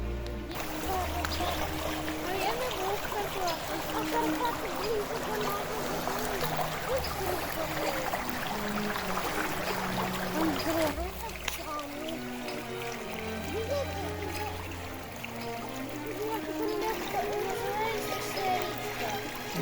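Steady rushing flow of the mountain Tikych river in Butsky Canyon fills the whole stretch at a constant level, with people talking close by over the water.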